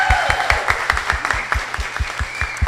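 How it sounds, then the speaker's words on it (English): An audience applauding at a talk event, a modest crowd clapping in quick uneven bursts with a few distinct sharp claps standing out near the listener. "Let's give this lady a round of applause as well."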